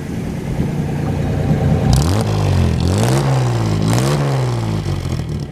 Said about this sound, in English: I'll let you listen to the exhaust here.